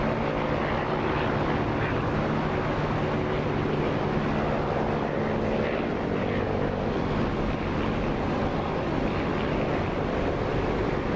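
In the DCS flight simulator, a jet sits near the runway while another aircraft crosses it; a dense, steady roar of engine and rushing air fills the whole stretch, loud and unchanging, with no voices.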